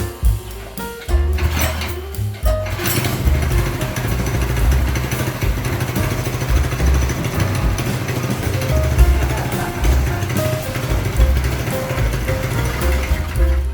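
A club kart engine starts and then runs at a steady, loud idle close by, with a few clunks just before it fires.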